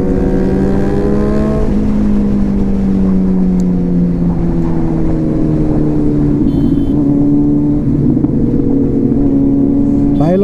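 Superbikes race past on an Indian road, including a Suzuki Hayabusa, their engines loud and close with rising and falling revs as they pass one after another over a continuous roar.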